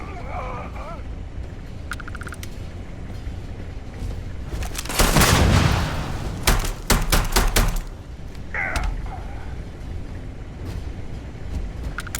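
Gunfire in a Starfield video game firefight: a loud burst of rapid shots in the middle, followed by several sharp separate bangs, with quieter game ambience and voices before and after.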